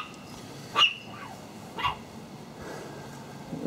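Beatrix the dog lets out two sharp, fairly close barks about a second apart against a quiet indoor room background, with no speech.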